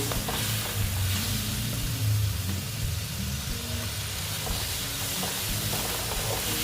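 Spices for a banana-flower curry frying in a pan after a splash of water, a continuous soft hissing sizzle with low rumbling underneath, steady and fairly quiet.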